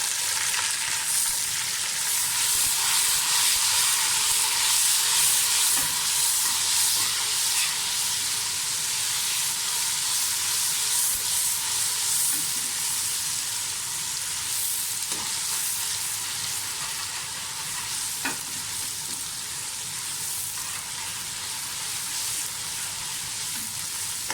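Garlic ginger paste sizzles loudly and steadily in a hot pan for chana pulao, a constant close frying hiss with faint stirring scrapes and no talking.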